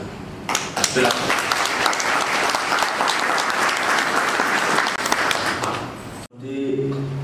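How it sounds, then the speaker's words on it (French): Loud, sustained applause fills a hall at a church partnership signing ceremony, dense clapping with a few sharper claps standing out, then cutting off abruptly as a speaker's voice resumes. "Je peux déjà vous applaudir pour cela."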